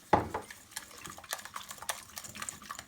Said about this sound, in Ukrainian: Змішуємо яйця і додаємо сюди 80 грамів цукру і розмішуємо.